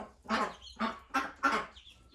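Baby chicks in a dust bath give four short clucking calls in an even rhythm, close and fairly soft, with no talk over them.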